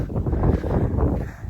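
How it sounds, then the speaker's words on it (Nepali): Strong wind buffeting the microphone on a motorbike ride, a loud rumbling low roar that surges and fades over a short stretch. "यस्तो हावा चल्छ नि फेरि"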